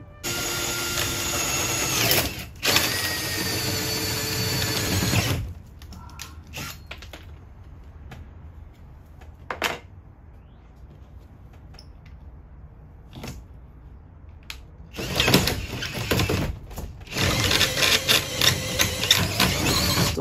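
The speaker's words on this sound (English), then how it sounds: "So I started drilling," A power drill whines loudly for several seconds drilling into a short school bus door, stops for a long quiet stretch with a few clicks, then starts drilling again in bursts.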